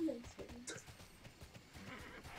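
A horse in the online game Tera lets out a short, bright whinny near the start, with hoof-like clopping and a busy, noisy background.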